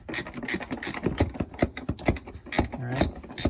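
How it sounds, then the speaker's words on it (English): A ratchet wrench loosens old bolts on a 20-year-old Jeep Cherokee's fender flares, with quick clicking bursts and scrapes, close and irregular, broken by short pauses. "So there you can see I've got my ratchet wrench,"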